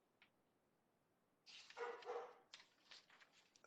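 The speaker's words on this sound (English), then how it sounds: "Apologies for the dog background." A dog barks in the background during a remote city council finance meeting, a faint short yip followed by a burst of several louder, fairly close barks and then a few more scattered ones.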